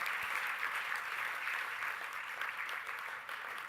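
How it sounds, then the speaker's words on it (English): Applause from the audience at a university's annual New York benefit dinner speech, a moderate, steady round of many hands clapping that fades slightly toward the end. "if I could take a round of applause for that"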